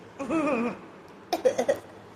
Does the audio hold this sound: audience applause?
no